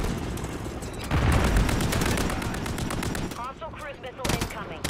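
Sustained machine-gun fire from a deployed remote turret in a Call of Duty multiplayer match, a loud continuous burst that later breaks into separate bursts, with game announcer voices and other battle noise around it.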